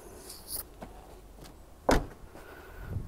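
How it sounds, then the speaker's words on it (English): A single solid thump of a 2010 Suzuki Splash 1.2L car door shutting, heard fairly close in a quiet outdoor setting, preceded by faint light clicks and handling noises. "Door shut nice and easily"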